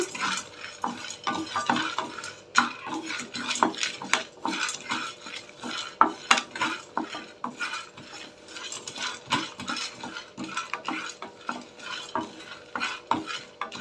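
A spoon scrapes and stirs dry roasted gram dal in a metal kadai, producing a brisk, irregular series of clattering strokes at close range.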